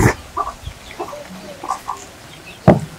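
Free-range village chickens cluck in short, scattered bursts close by, with a few sharp louder calls breaking through the outdoor background.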